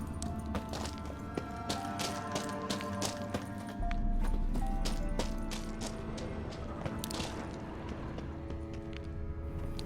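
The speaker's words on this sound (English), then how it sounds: "Another horse. Almost exactly like the last one." Rhythmic clip-clop of horse hooves in The Witcher III: Wild Hunt, with sharp clicks over a steady low rumble, continuing throughout at moderate loudness.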